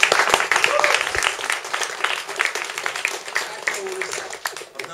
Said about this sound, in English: we should give a round of applause to my mate George